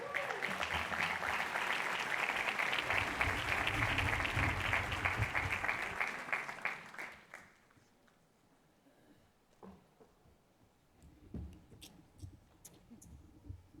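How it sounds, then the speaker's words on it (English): Warm audience applause at a hotel school's closing graduation ceremony, welcoming the Secretary General to the stage: sustained dense clapping for about seven seconds, then dying away to sparse claps, footsteps and small room noises. "Please give a warm applause and a warm welcome to Ms. Katie Chesney, the Secretary General"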